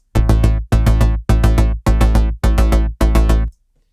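A classic synthwave bass line plays six evenly spaced, loud, punchy notes, each split into quick repeated pulses, with the lowest pulse removed, then stops abruptly into silence.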